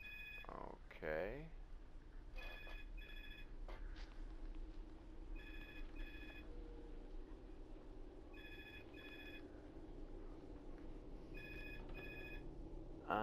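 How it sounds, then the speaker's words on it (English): A telephone rings in repeated paired bursts of high electronic tones through a horror exploration game, Among the Sleep, sounding over a steady low background with a voice heard briefly near the start. "my telephone had to start ringing just at the right time"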